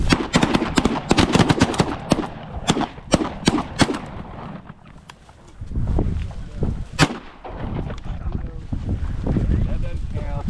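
Shotguns fire during an Oklahoma goose hunt, a rapid volley of sharp, loud blasts close together in the first few seconds followed by a couple of later shots, with people shouting and talking throughout.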